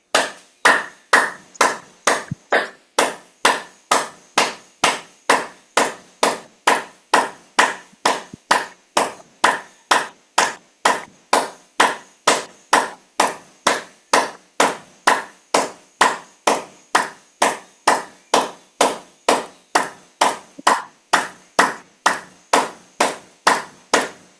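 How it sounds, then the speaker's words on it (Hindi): A group claps hands together in unison during a chakra meditation session, about two sharp claps per second in a steady, unbroken rhythm that holds for the whole stretch, loud and close, with no talking. "हम 1 मिनट के लिए तालियां बजाएंगे"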